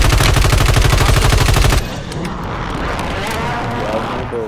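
Rapid automatic gunfire in Warzone on Rebirth Island, a loud close burst of evenly spaced shots that cuts off sharply, followed by quieter game ambience.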